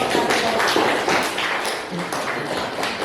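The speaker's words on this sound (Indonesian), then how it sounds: "Baik, tepuk tangan." Students in a ninth-grade civics classroom clap together, a brief burst of mixed hand claps and taps with some voices murmuring over it, fading slightly toward the end.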